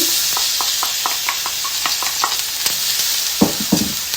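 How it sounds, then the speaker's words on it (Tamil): Onions sizzle loudly in hot oil while cooking a sea clam dish, a constant hiss with a rhythmic series of scraping clicks from stirring, then a few heavier clatters near the end. "இப்போ நான் இதுக்குள்ளே வெங்காயத்தை போடுறேன்"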